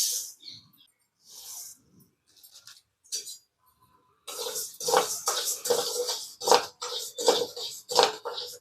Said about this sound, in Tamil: அரிசி வறுத்துக்கலாம்